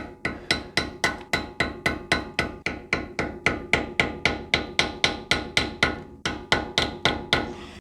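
Hammer striking a lock washer tab on a Toyota Land Cruiser swivel hub, about twenty-five sharp metallic blows in a fast, even rhythm, close and loud with no talking.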